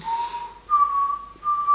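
A person whistles a soft, lullaby-like tune, a few sustained clear notes with short pauses between phrases, close and alone.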